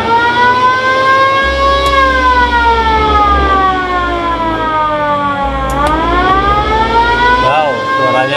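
Electronic siren of a VW Kombi Bay Window ambulance wailing loud and close, rising and falling slowly in long sweeps, with a low hum running underneath and no speech over it.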